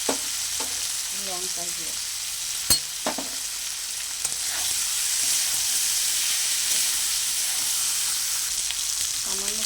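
Turmeric, cumin-coriander powder and chili powder fry with pumpkin and Malabar spinach greens for a vegetarian dish, giving a steady close sizzle with scraping stirs and light clinks. A brief voice speaks over it.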